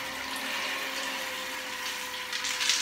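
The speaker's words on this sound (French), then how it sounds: "il y a une pompe électrique qui fait un peu de bruit" An electric water pump in a homemade eco shower water heater runs with a steady hum under a rushing flow of water, constant and fairly close, growing a bit busier near the end.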